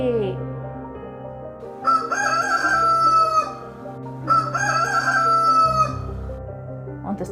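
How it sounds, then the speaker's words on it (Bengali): A rooster crows twice in clear, loud succession, each call a long rising-then-falling cock-a-doodle-doo, with no talk over it. "মোরগ ডাকে"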